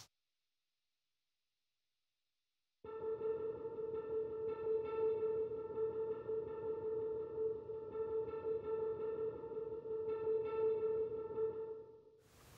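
After a few seconds of silence, a guitar part heard only through its wet reverb signal swells in as a sustained, washy tone with a steady pitch, holding evenly before fading out near the end.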